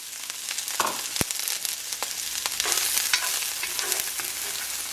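Jalapenos frying in a pan on low heat, with steady close sizzling, a sharp stir or clink near the start and continuous crackle throughout.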